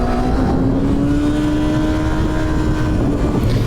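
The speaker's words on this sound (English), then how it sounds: "So it doesn't have the greatest exhaust sound, you know, stock exhaust." A 2016 Kawasaki Ninja ZX-6R on its stock exhaust drones steadily with a rising engine note, loud and continuous as if heard while riding, with wind noise throughout.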